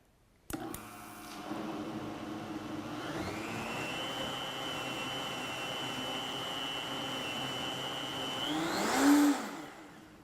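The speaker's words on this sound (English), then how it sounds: "So I'm just going to blend this really slowly till all that's mixed in" A blender runs on a slow setting to mix homemade almond milk. The motor starts sharply, ramps up into a steady, loud, even whir that holds for several seconds, then surges higher and cuts off near the end.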